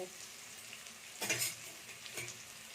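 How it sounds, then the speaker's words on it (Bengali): Half a large onion frying and being stirred in a pan while making egg paratha, a steady soft sizzle with two louder bursts of stirring and scraping, close and with no talk. "পেঁয়াজটাকে আমি একটু ভেজে নেব"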